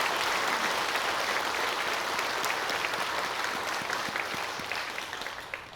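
A congregation at a Sunday morning church service in Haeundae claps together in thanks, a dense, even wash of applause that fades slightly toward the end, with no talking.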